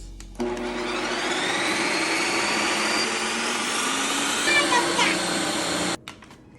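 A Ninja Creami machine spins and churns a tub of frozen protein ice cream, a loud steady motorized whir with rising grinding tones that starts abruptly, runs about five and a half seconds, then cuts off.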